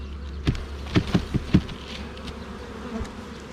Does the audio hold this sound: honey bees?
yes